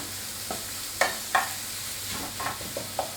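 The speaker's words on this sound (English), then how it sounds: "Let's just give that a little quick stir around there." Thai scrambled egg getting a quick stir in a hot pan, a few sharp spatula scrapes and knocks over a low, continuous sizzle, close and brief.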